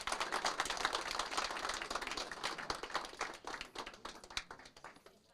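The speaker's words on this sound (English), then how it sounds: "Can we give our library commissioners a big round of applause?" Scattered, fairly light clapping from a small audience at a city council meeting goes on for several seconds, with individual hand claps distinct and gradually thinning out toward the end.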